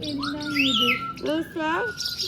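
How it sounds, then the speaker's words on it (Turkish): Bright whistling and chirping calls of parrots at a zoo ring out in quick bursts, with short pauses between phrases. "Cennet papağanları çok güzel ses çıkarıyorlar"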